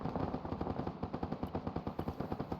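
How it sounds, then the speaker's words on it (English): A mounted heavy machine gun fires during joint squad training, steady rapid bursts of evenly spaced shots echoing from some distance, with no voices. "Some kind of heavy gun or mounted gun firing from the west."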